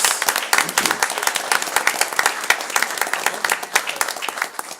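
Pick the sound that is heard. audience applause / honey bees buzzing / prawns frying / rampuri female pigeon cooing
audience applause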